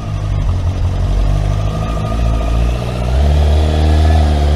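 A car engine as the clutch is slowly let out, a loud close low rumble that holds steady and then deepens and strengthens as the load comes on, with no talking.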